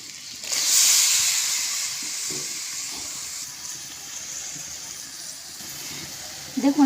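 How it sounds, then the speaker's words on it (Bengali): Bottle gourd cooking in a pan with turmeric and chili powder mixed in water, a loud steady steaming hiss that swells early and settles, with faint stirring underneath. "আবারও আমি লাউটা দিয়ে সুন্দরভাবে কষিয়ে নেব।"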